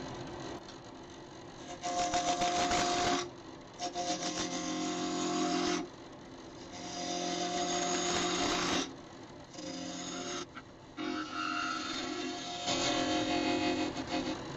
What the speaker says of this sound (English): So I'm going to use my 3/8 inch spindle gouge to turn this round at a fairly high speed.